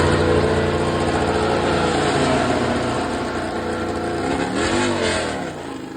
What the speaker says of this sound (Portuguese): Sempre bom ver os roncos das motos em ação, né?